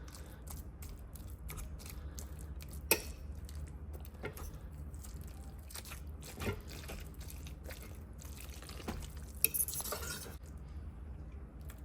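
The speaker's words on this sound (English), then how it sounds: "I'm going to go ahead and shred this chicken up" Tender slow-cooked crockpot chicken being pulled apart with a spoon and fork, quiet soft squishing and scraping with occasional light clinks of utensil against the pot, no talking.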